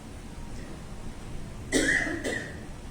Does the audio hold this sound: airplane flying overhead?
no